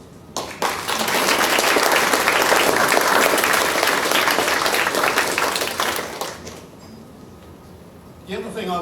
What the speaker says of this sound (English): I think you need to give yourselves, this school, a huge applause.